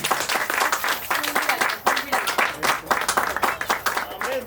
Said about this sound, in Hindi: पहले ताली बजाओ दोनों बच्चों के लिए